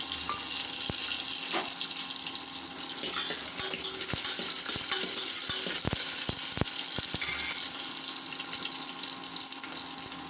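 Onion and curry leaves hit hot oil with mustard seeds for a brinjal potato gravy, giving a steady close sizzle with scattered sharp crackles and pops throughout, no voices.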